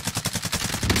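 Rapid automatic gunfire from players shooting zombies in Warzone Zombie Royale, a loud, continuous burst of evenly spaced shots with no talking.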